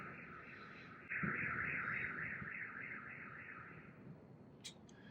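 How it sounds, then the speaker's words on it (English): A car alarm wails steadily in the background outside, a continuous electronic tone that starts abruptly and holds for several seconds at moderate distance, with faint room noise and no speech. "I'm sorry for the car alarm in the back, by the way."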